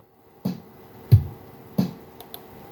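A sparse, basic percussion loop for ambient music: three evenly spaced, punchy kick and snare hits with light, faint closed hi-hat ticks near the end, alone and fairly soft.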